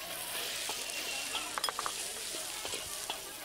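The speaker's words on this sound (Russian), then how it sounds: "Теперь мы кладем лук." In a pan for Indian cooking, chopped onion goes into hot oil already holding mustard seeds, coriander seeds and curry leaves, giving a faint, steady hiss of frying with a few light clinks.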